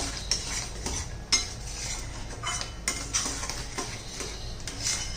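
A spoon stirring turmeric and homemade masala into paneer masala in a pan, repeated metallic scrapes and clinks up close over a faint background sizzle, with no talking.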